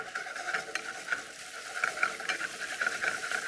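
Bacon fries in a pan with a soft, crackly sizzle and scattered light pops, fairly quiet and continuous throughout, with no voices.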